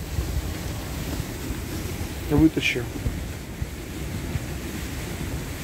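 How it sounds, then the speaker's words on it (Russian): Strong wind roars steadily through a blizzard at an ice-fishing camp, buffeting the microphone throughout, with a short spoken word partway through. "Ветрище."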